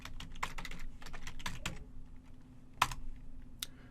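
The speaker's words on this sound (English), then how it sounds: "type the workspaces command and press enter." Quiet keystrokes on a computer keyboard as a command is typed, irregular taps with a sharper press near the end like hitting enter, over a faint steady hum.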